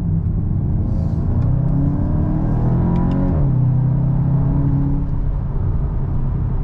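A 2023 Volkswagen Golf GTI pulls hard out of a corner, its engine a loud, continuous rising drone heard from inside the cabin, pitch climbing then briefly dropping at a gear change before climbing again.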